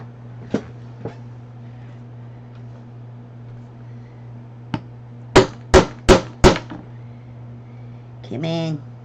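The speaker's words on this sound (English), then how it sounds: "I even found a cute little girly hammer." A small hammer strikes hard in a quick run of four loud, sharp blows after a few lighter taps, over a steady low electrical hum, with a short rising whir at the end.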